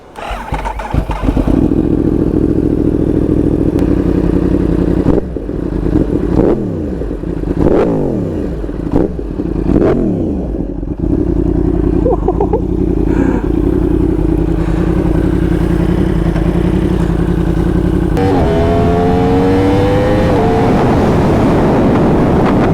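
A Yamaha R1 sport motorcycle rumbles along near and loud, with repeated throttle blips and revs while downshifting, then settles to a steady idle as it rolls to a stop; a rising engine whine follows near the end.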